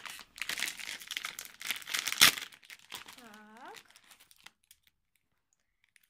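A Chipicao card packet being torn open with crinkling plastic and a sharp rip, close up, while someone talks over it; the rustling fades out at the end.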